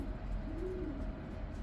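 A white racing pigeon gives a soft, low, rolling coo as the birds return home from a race, heard close over a steady outdoor background hum, with no speech.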